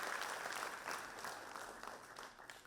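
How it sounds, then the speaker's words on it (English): Audience applause at an evening tribute event at the Bengal Club in Calcutta, a dense, fairly quiet wash of many hands clapping that holds steady before easing off slightly toward the end. "Put your hands together and let's give the Calcutta applause."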